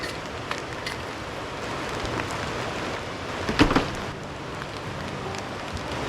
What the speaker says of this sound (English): It just started raining too as I got everything picked up